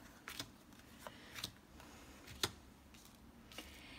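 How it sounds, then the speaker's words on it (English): Soft riffling of tarot cards being shuffled close by, in a few quick separate bursts against a quiet background. "I just shuffled them a few more times just to let you know that, I did shuffle."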